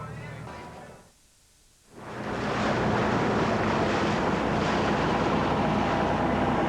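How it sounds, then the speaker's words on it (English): Steady broadband rumble of a pearl farm cleaning boat's engine on open water in Australia at 6 a.m., with wind buffeting the microphone, after a brief quieter dip near the start. "6 a.m. and the cleaning boats have started already."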